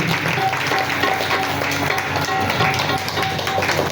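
A temple audience at a Kartik katha gathering applauds in thanks, a dense continuous patter of many hands filling the hall at steady loudness throughout.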